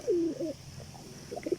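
A red-bordered male pigeon coos in close, low throaty phrases, a drawn-out call at the start and shorter coos toward the end.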